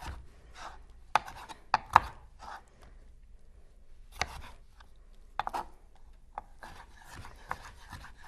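A knife chops a tomato into bite-sized pieces on a kitchen board, giving about a dozen sharp, irregular strikes in short bursts with quiet pauses between, close and fairly faint, with no talking.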